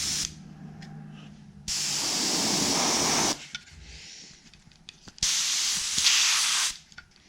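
Opaque white spray paint hisses onto an oak wood musky twitch-bait lure in two long, loud, steady bursts, each lasting over a second, with quieter pauses between.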